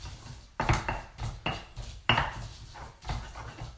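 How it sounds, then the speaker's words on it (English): A jalapeno ground in a bowl for carnitas nachos, giving a few sharp, irregular knocks and scrapes of the grinding tool against the bowl, each followed by brief rough grinding. "So I'll get this jalapeno ground up."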